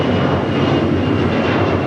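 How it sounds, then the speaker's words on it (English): An American Airlines A321 jet departs Los Angeles International Airport bound for Charlotte, its engines giving a steady, loud broadband roar that holds without break and with no voices over it. "This is American 2837 departing to Charlotte on an A321"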